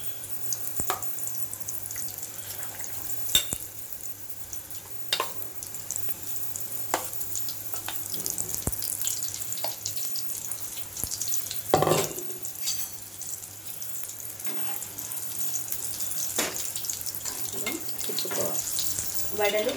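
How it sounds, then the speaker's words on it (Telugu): Vadas for vada pav deep-fry in hot oil with a steady close sizzle and bubbling, with occasional clinks and stirring over the continuous crackle. "వడలు బాగా ఫ్రై అయిపోయినాయి."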